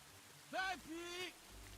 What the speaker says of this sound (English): Too bad the rain isn't washing the blood off.